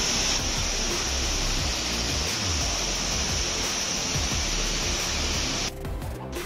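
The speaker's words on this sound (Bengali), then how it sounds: "এখানে ঝর্ণা পড়ছে, দারুণ লাগছে।" Waterfall in the mountains on a trek route near Pokhara, a steady loud broadband rush of falling water filling the whole stretch, cutting off abruptly near the end.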